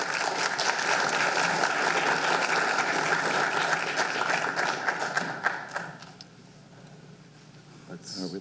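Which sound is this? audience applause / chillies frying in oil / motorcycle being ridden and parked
audience applause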